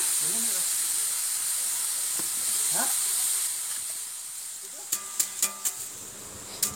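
Sand heats in a wok with a steady, bright hiss, then several sharp metallic scrapes and clinks ring out near the end, while making puffed rice.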